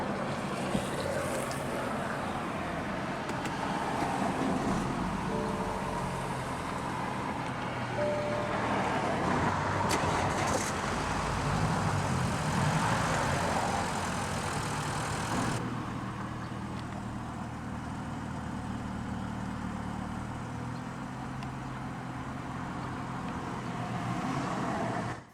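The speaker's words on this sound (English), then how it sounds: "let's go ahead and start the engine." A 2017 BMW 330i xDrive sedan with push-button ignition starts, and its engine settles into a soft, steady idle that hums faintly and evenly for the rest of the stretch.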